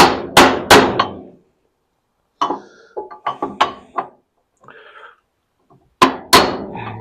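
A hammer drives a wheel bearing into its housing, several sharp metallic blows in quick bursts with short pauses between, ringing loud and close, with lighter taps and tool handling in the gaps.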